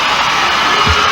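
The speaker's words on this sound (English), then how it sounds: "Oh, what a warm round of applause." A Shrine Auditorium crowd at a music awards ceremony roars with dense, steady applause and cheering, a loud wash of sound with no pauses.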